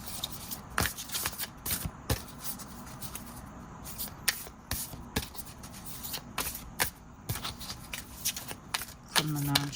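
Tarot cards being shuffled by hand up close: a continuous crisp riffling and slapping with sharp card snaps throughout, and a faint voice present beneath.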